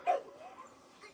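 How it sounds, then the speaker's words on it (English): A dog at play outdoors in North Yorkshire gives one short, sharp bark followed by a soft, drawn-out whimper, close and fairly faint, with no talking. "Playing with her dog Baxter back home in North Yorkshire"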